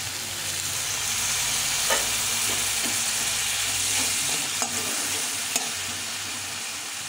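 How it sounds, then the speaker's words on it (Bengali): Chili powder sizzles and fries in a pan while it is stirred, giving a steady broadband hiss with a few sharp scraping clicks of the spoon, close and alone with no talking. "আর লঙ্কা গুঁড়ো দিয়ে এটাকে ভালো করে কষিয়ে নেব।"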